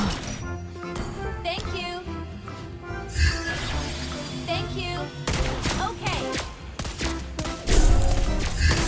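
Rapid bursts of game gunfire crack and clatter amid busy effects, with sharp loud shots clustering toward the end.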